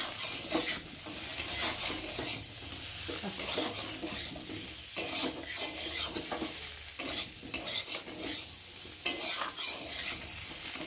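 Poppy seed paste with fried potato sautéed in a pan for a vegetarian dish, a continuous soft sizzle with repeated scraping and stirring strokes of a spatula against the pan, close and steady.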